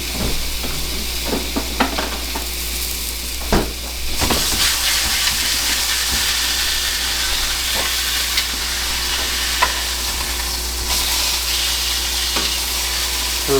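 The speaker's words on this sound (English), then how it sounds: "we're just looking to get the sear on it, just to give it a nice crust" A venison sirloin roast sears in a hot pan with a steady loud sizzle and hiss, broken by a few sharp crackles and a brief louder burst of spattering; no one speaks.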